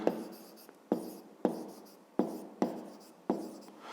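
A pen writes by hand on paper, producing about six or seven distinct stroke bursts in an uneven rhythm, close and quiet, with no voices over them.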